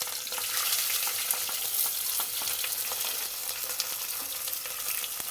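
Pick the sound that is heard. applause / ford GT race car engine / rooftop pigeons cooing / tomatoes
tomatoes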